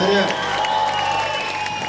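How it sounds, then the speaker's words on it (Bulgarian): Audience applause, a dense, steady clapping from a crowd that keeps going without a break, with a host's voice calling out over it. "Аплодисменти за него, моля ви, дами и господа."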